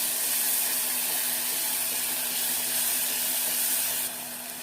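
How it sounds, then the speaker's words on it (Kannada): Ground masala frying in hot oil for chenna masala, a close, steady bright sizzle and hiss that carries on evenly and eases slightly at the end, with no voices. "ರುಬ್ಬಿದ ಮಸಾಲೆ ಎಣ್ಣೆಯಲ್ಲಿ ಫ್ರೈ ಮಾಡಿ."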